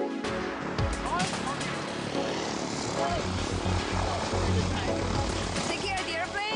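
Propeller airplane engine at a skydiving drop zone in Leutkirch drones loudly and steadily throughout, close and continuous, with people talking over it.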